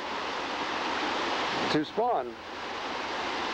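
Steady rushing water pours over a salmon hatchery weir on Fall Creek, a broad continuous wash of flow filling the scene while someone speaks briefly over it.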